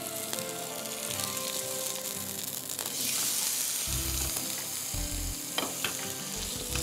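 Chicken sears in a hot pan on the stove, giving a steady, close sizzle with faint crackle throughout and a few low bumps and clatters from the pan.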